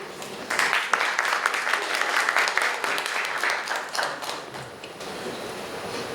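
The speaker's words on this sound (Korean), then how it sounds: "여러분 큰 박수로 환영해 주시기 바랍니다." Audience applause fills a forum hall as a company representative is welcomed to the podium, a dense sustained clapping that swells quickly and continues steadily before thinning out near the end.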